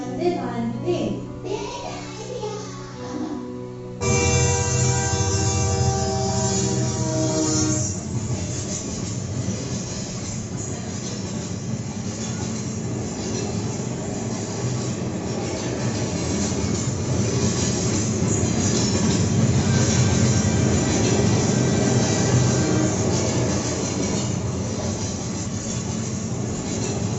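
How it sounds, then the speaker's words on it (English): A Vande Bharat train running, a steady loud rumble of the moving train with rail noise sustained throughout, preceded by a few seconds of quieter mixed sound and faint voices. "let us take Akari on a journey for Indian monuments in Vande Bharat train"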